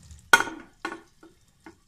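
Popcorn kernels burst inside a closed pressure cooker over high flame while making caramel popcorn, giving a few sharp, sizzling pops spaced apart, with one loud pop followed by quieter ones.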